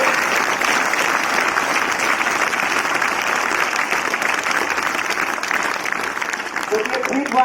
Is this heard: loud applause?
yes